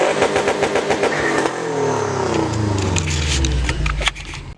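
A Subaru WRX engine revs hard on launch control while the car stays parked on new wheels, producing a loud, close, continuous burbling roar with rising and falling revs and crackling pops.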